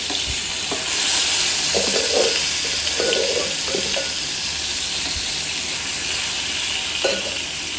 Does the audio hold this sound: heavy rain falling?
no